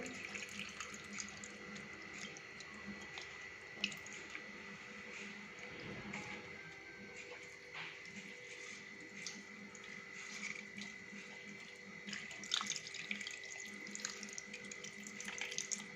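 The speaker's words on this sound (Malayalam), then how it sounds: "അപ്പോൾ നമ്മുടെ മീനിലേക്ക് നമ്മൾ പുളിവെള്ളം ഒഴിച്ചു കൊടുക്കുകയാണ്." Tamarind water is poured onto tuna pieces for a Trivandrum-style fish curry, giving a steady, fairly faint trickle and splash that runs continuously, with a few small clinks and no talking.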